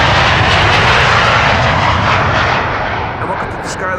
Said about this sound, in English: This is KLM flight 601. A 787-10 Dreamliner on its way to LAX.